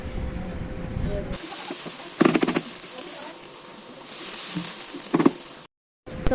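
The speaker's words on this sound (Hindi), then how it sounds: "उसी ऑयल में मैंने इन प्याज़ों को डाल दिया है। अब यहाँ पर इनको मैं पकाऊंगी।" Onions hiss and sizzle in hot oil in a home kitchen, a steady high frying noise that runs through most of the moment, broken by a couple of brief clattering bursts and a short drop to silence near the end.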